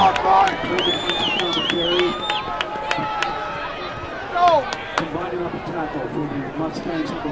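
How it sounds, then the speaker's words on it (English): Crowd noise at a high school football game fills the stands, a broad steady roar of cheering and chatter with a few brief shouts, continuing throughout under the field noise. "I think you can hear the crowd down here. They're into it."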